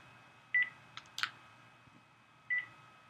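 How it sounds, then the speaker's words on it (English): Two short telephone keypad tones from pressing 5 and star during a conference call, spaced about two seconds apart over faint line hiss. "please press 5* on your phone"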